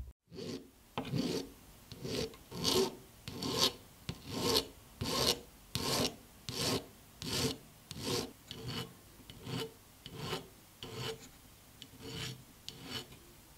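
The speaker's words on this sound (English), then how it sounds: "I am now sanding the bezel and removing excess material with a hand file" Regular back-and-forth strokes of a cut 0 hand file rasping on a metal ring bezel, about fifteen even scrapes at a steady rhythm, close and clear.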